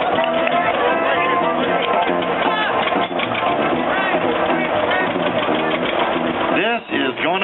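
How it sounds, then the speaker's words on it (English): A 1958 John Deere 530 tractor runs at a tractor pull, its steady engine chugging under loud announcer talk and crowd noise. "Big attempt by Virgil Bishop. 1958 John Deere 530"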